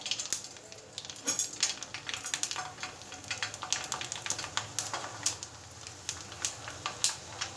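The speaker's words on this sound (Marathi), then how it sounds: "इथे मी हे पळी पापड तयार केले ते देखील आपण तळून घेऊयात" Pali papad, a ladle-shaped homemade papad, frying in hot oil, giving a steady close crackling sizzle with frequent sharp pops and bubbling bursts throughout.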